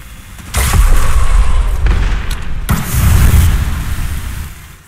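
A grenade blasts in the battle royale game Apex Legends, a loud booming explosion with a sharp onset followed by a second heavy blast and rumbling debris, close and alone.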